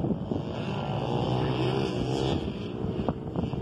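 An electric pit bike runs at full throttle on a dirt track, a steady whining motor and rushing wind noise recorded close up without a break.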